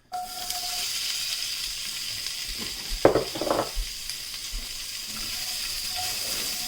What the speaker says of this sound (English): Okay, so the onions are cooking in there.